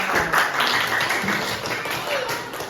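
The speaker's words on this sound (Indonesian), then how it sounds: "Beri tepuk tangan." A brief burst of applause from a group of primary school pupils in a classroom, dense and steady, with voices mixed in.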